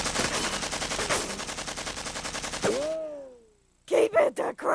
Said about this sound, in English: That's why we use automatic weapons.